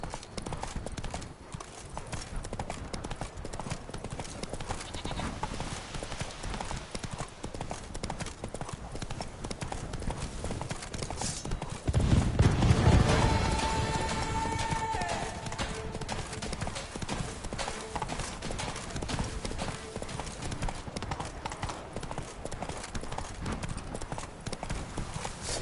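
A horse in The Witcher 3 video game gallops with a steady, rapid clip-clop of hooves throughout, a brief louder surge midway, and short rider calls over it.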